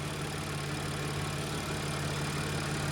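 An Audi SQ5 3-liter supercharged engine idling after a timing chain repair, a steady, even drone with a low hum and no talk.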